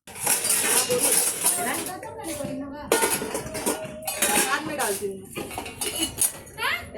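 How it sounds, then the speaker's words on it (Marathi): Utensils being scrubbed and washed outdoors, metal pots and dishes clanking and scraping in irregular bursts, with a voice talking and playing among the clatter. "भांडे मी घासून घेतली होती"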